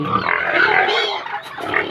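Farm pigs grunt and squeal up close at feeding time, a busy run of snorts and oinks from a few animals overlapping in quick succession.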